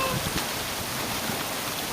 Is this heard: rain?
yes